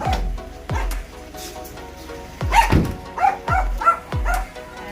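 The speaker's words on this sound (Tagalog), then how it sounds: "Nag-iingay na yung mga dog." Several dogs at a countryside home bark repeatedly in short, sharp bursts with yips, fairly close. A few barks overlap, and there are brief pauses between them.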